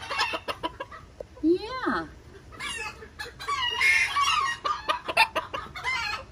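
Bantam chickens cluck and crow close by, with a rising squawk among the busy calls. Someone briefly speaks over them.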